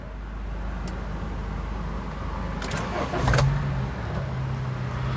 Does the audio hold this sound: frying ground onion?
no